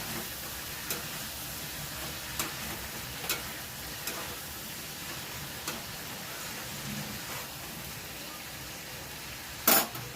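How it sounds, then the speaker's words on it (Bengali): Red chilli powder and spice masala fry with fish pieces in a pan, giving a steady, even sizzle with scattered light ticks and clicks from stirring and a sharper knock near the end. No one talks. "মাছটা কমিয়ে ভালো করে মশলাটা ভেজে নেব। এদিকে নেড়ে দেব ভালো করে।"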